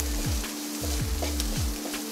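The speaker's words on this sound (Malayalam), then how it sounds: "ഈ മുളക് പൊടിയൊക്കെ ഒന്ന് മൂത്ത് പച്ചമണം മാറിക്കഴിയുമ്പോൾ" Chilli and turmeric powder frying in hot oil, a dense continuous hiss with a low rhythmic throb repeating underneath.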